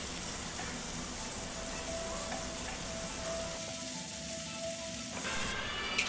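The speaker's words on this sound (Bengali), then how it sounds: "সামান্য একটু লাল লাল করে ভেজে নিতে হবে" Marinated tiger prawns fry in a pan, giving a constant close sizzle with light stirring sounds and a short bright crackle near the end.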